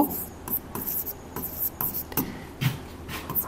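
Pen or chalk writing during a chemistry lesson, a run of short scratchy strokes with brief pauses between them, fairly close and clear over a faint room background.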